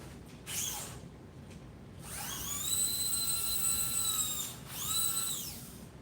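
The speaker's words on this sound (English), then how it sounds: "Scraping the crud out of it." High-pitched whining of a small power tool used to scrape crud out of a race car part, in three bursts that rise and fall in pitch, the middle one long and sustained, with no talking.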